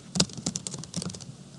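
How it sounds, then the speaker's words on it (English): Keys clatter on a computer keyboard in a short quick burst of close typing with uneven spacing, the kind of keystrokes made when deleting text and entering details, with no voices present. "hit backspace, and type their information"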